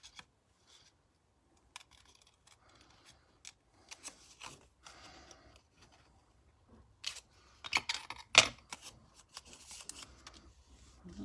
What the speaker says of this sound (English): So I'm just going to cut the outer one